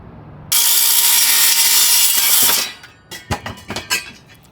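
A saw bites into a cedar fence post with a loud, continuous, close whine for about two seconds, then stops, followed by a few scattered knocks and clunks.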